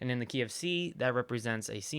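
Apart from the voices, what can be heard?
No everyday noises stand out.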